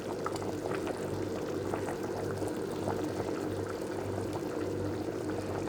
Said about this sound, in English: The next thing we're gonna do now is to put our cocoyam paste.